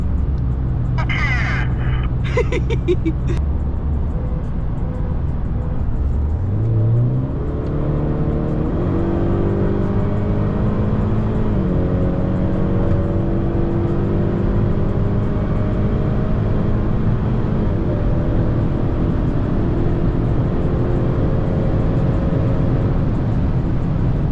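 A Honda Accord 2.0T accelerates hard at full throttle and full boost, its engine note climbing steadily and loud, with no one talking over it.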